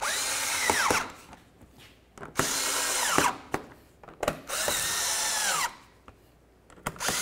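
A power drill drives the fog light bolts on a 2006-12 Ford Fusion in several short, whirring bursts, each winding up and stopping abruptly, with brief pauses between.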